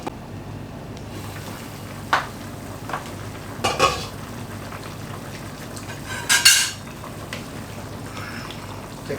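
A metal lid clanks onto a pot of simmering pork rib sinigang with taro, a few sharp clinks and rattles over a steady low bubbling hiss, close by and without talk.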